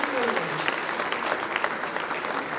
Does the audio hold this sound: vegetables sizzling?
no